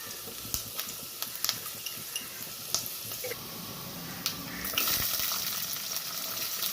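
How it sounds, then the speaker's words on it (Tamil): Fenugreek seeds and vadagam crackle and sizzle in hot oil for fish curry, a steady close frying hiss with scattered sharp pops that swells louder toward the end. "எண்ணெய் காஞ்சது வெந்தயம் சேர்த்துக்கிறோம். அதன் பிறகு வடகம் சேர்த்துக்கிறோம்."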